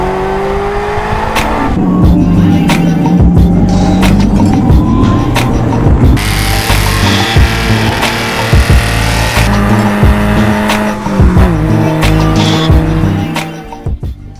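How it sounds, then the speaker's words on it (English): A 1969 Alfa Romeo Spider driving on the road, engine droning and rising as it accelerates through gears, loud and steady from inside the car with wind and road rumble. "we're gonna go on a fun little ride in a 1969 Alfa Romeo Spider"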